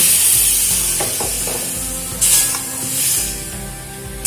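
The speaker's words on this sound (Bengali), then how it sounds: "কষিয়ে নেওয়ার পর পরিমাণ মতন জল দিয়ে দেব" Spiced arum leaf greens sizzle and spit in a hot pan as water goes in, with loud frying hiss, stirring scrapes and a sharp burst of steam partway through.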